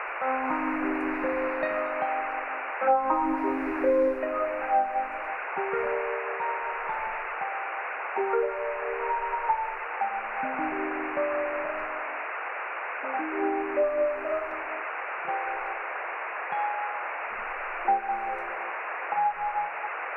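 Noisy, band-limited echo from the Moon Echo plugin, with repeated tonal phrases trailing off in hazy repeats over a constant hiss, close and fairly loud with no talking.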